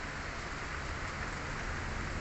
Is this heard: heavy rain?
yes